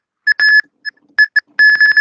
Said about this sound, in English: Detect eye blink and play alarm